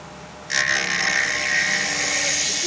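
A wood lathe turning a small box while a tool rides the bevel; after a short quiet hum, a loud, steady, high-pitched cutting whine starts up close and holds without talk.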